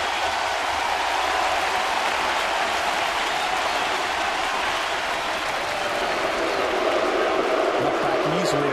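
Steady, dense crowd noise at a Mets versus Blue Jays baseball game in Toronto, a continuous roar of cheering and applause for an RBI that holds level throughout with no break.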